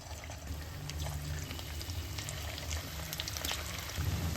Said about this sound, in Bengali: তেল গরম হয়ে গেছে, এখন আমি পকোড়াগুলোকে ভেজে নেব।